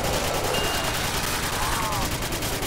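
An RPD machine gun firing in a custom zombies video game, sustained rapid fire that fills the whole stretch at steady loudness, mixed with game effects and some voice chatter.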